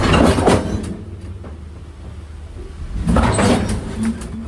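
A second-class carriage of the Yal Devi Express, between Maho and Anuradhapura, Sri Lanka, rattles and clunks, with loud jolts at the start and again near the end and quieter rumbling in between.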